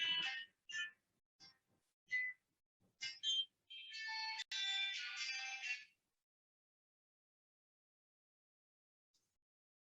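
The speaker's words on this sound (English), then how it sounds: "sorry, my phone was on" A mobile phone ringtone goes off during a talk, a series of short bright electronic chirps followed by a sustained warbling ring lasting about two seconds before cutting out into silence.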